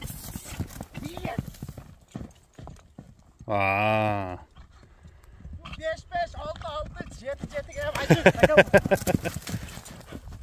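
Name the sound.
Kyrgyz horse hooves clip-clopping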